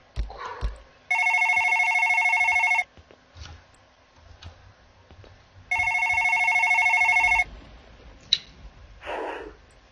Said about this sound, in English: my phone that was ringing, not theirs